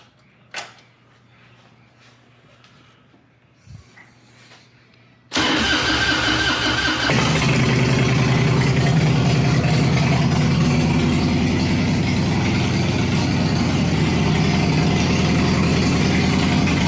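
Harley-Davidson Dyna FXRT motorcycle, club style build, fires up after a quiet few seconds of small handling sounds, then settles into a loud, steady, close idle that runs to the end.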